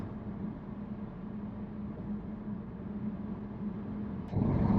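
BMW i3 electric car on cruise control on the road, giving a steady low cabin rumble of tyres and road noise with a slight rise in loudness near the end.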